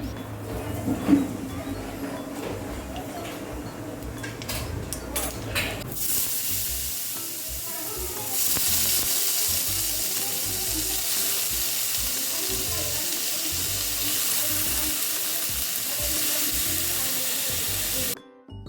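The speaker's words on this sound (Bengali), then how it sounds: "সর্ষে তেল দিয়েছি তেলটা একটু গরম হওয়ার পরে দিয়ে দিলাম একটুখানি কালো জিরে" Black cumin seeds hitting hot mustard oil, a broad hissing sizzle that starts abruptly partway through and holds steady and fairly loud for over ten seconds after some quieter clattering.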